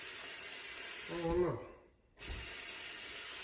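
A kitchen tap runs steadily into a pot for cooking rice, a continuous close hiss of flowing water that briefly changes and dips in the middle before resuming, with a short voice underneath.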